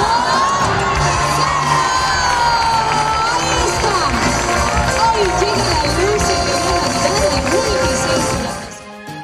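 A crowd at an outdoor Christmas lights event cheers and children shout excitedly over music, the lively noise continuous and loud before cutting off abruptly near the end.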